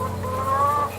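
Several farm hens cluck and murmur together close by in a steady, busy chorus, with a higher drawn-out call running through the middle and no voices.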